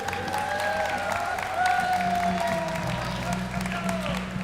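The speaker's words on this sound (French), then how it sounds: "On peut les applaudir." A game challenge audience at Japan Expo claps through moderate applause while bright musical tones and a low hum play over it, with a little crowd murmur.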